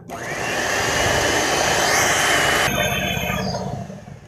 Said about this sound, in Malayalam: ഇനി ഇത് ഒന്നുകൂടി നന്നായിട്ട് ബീറ്റ് ചെയ്ത് കൊടുക്കാം